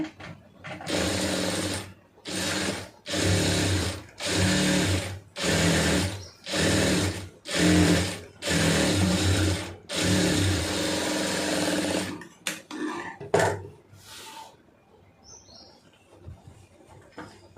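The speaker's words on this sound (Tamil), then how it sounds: "ஒரு கால் இன்ச்சு அளவுக்கு தையல் விட்டுட்டே தைங்க" A sewing machine stitches a large blouse sleeve in a series of close, loud whirring runs separated by short pauses, ending with a few brief bursts and quiet.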